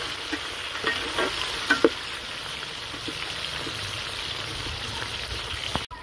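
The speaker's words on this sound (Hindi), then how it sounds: "टमाटर को भी नरम होने तक जो है फ्राई कर लेंगे।" Tomatoes frying in a pan for a chicken green chilli rice dish, a steady close sizzle with soft stirring scrapes and a few light clicks, continuous and moderately quiet, with no talking.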